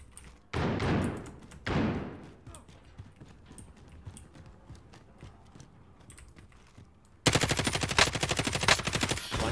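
Video game gunfire: two heavy booming shots early on, scattered clicks, then a loud rapid automatic burst near the end, close and dominant with no talk.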